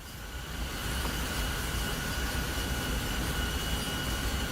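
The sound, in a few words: locomotive dynamic braking in Boston Commuter train video game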